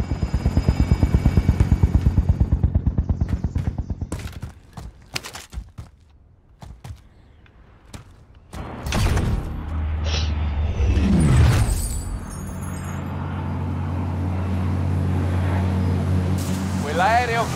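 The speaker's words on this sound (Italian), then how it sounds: "Quell'aereo cargo ha appena consegnato un lancio di denaro." A cargo plane flies over in the Call of Duty: Warzone video game, its loud droning engine rumble strongest at first and then fading, followed by clatter, impacts and game noise while voices talk.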